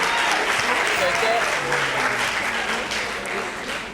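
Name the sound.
audience applauding at school festival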